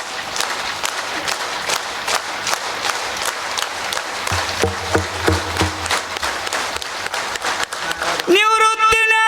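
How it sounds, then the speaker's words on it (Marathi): Audience at a Marathi kirtan on the Narmada parikrama clapping together, sustained crowd applause for most of the stretch, ending in a sudden loud sustained tone as music or chanting begins. "हा सगळ्यांनी एक टाळी"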